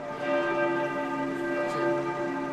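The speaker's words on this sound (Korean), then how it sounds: "독일 쾰른 대성당에 종이 울립니다." Large bells of Cologne Cathedral in Germany ring continuously, their deep tones overlapping into a sustained, resonant wash of pealing with no voices.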